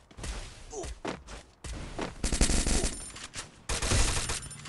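Rapid bursts of automatic gunfire from Free Fire mobile, several volleys crackling loudly in quick succession with short pauses between them, dense and close like a multi-direction firefight.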